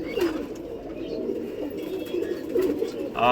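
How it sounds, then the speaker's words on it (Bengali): Male champion pigeons coo in a continuous low, rolling murmur. Close and steady, the calls swell slightly toward the end. "নর পায়রা দেখুন"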